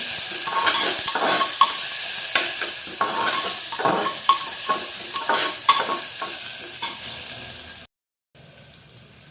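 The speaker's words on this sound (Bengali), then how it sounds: "আদাটা ভাজা নেই।" Ginger paste fries in oil with whole spices for egg biryani, sizzling up close as a spoon stirs and taps the pan in regular strokes, then a short silence before faint sizzling resumes.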